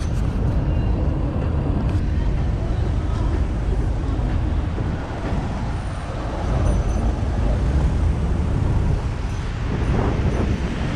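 Continuous road traffic heard from inside a car driving along Marylebone Road in London, a steady low rumble of engines and tyres with passing vehicles, moderately loud throughout.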